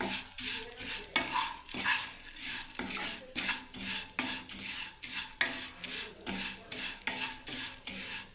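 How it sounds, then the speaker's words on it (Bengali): Vermicelli fries in ghee in a pan over a low gas flame while a spoon stirs it in steady, repeated scrapes. A faint sizzle runs beneath the clinking of metal on metal. "এবার আমি এই সেমিটাকে ভালো করে ভেজে নেবো বন্ধুরা, লাল করে ঘিয়ের মধ্যে ভালোভাবে"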